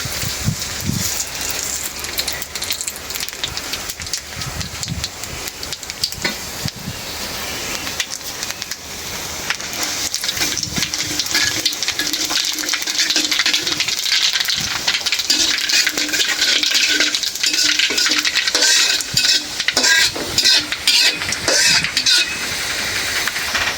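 Dried chili and black cumin frying in hot mustard oil, a steady loud crackle and sizzle with scattered sharp pops and light utensil clinks throughout.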